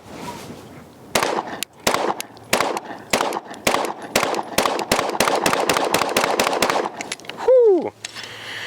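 A SIG P365 AXG Legion pistol with an RMR optic fires 115-grain rounds at 10 yards in a string of about twenty sharp, loud shots at a quick, slightly uneven pace, with a ringing tone at the end.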